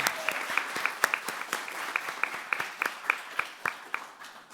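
Applause at a board meeting for girls heading to the Tech Trek summer program: a moderate crowd claps with a steady patter of sharp, individual claps throughout.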